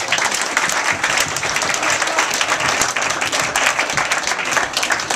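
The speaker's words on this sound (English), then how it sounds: "So give them another round of applause, please." A ski team's end-of-season gathering breaks into sustained applause, many hands clapping at an even, moderate level from start to finish.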